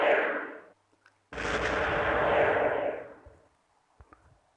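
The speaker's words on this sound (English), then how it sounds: "intercontinental ballistic missiles are really powerful." A heavy missile blast from World Conqueror 4: a short burst fades out, then a loud, sustained booming roar rolls on for about two seconds before tapering off, followed by a few faint clicks.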